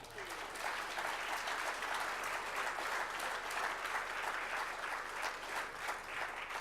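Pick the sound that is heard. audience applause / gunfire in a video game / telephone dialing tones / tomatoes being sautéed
audience applause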